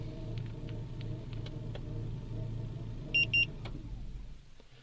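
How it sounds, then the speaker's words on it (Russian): A car engine idles on remote start with a low, steady rumble, then cuts off near the end; two short electronic beeps sound just before the idle fades to quiet. "Все, двигатель заглушился."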